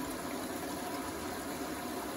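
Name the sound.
Beko washing machine topping up with water during final rinse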